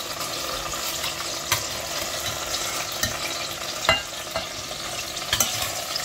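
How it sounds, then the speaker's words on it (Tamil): Spices dry-roast on a slow flame for an eggplant curry, with steady stirring and scraping in the pan and a few sharper spatula taps over a faint background hiss, close up and without speech. "நல்லா ஸ்லோ டு மீடியம் ஃப்ளேமில் வச்சுட்டு இந்த மாதிரி கருகாமல் வந்து வறுத்து எடுக்கணும்."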